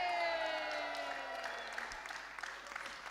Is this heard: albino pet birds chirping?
no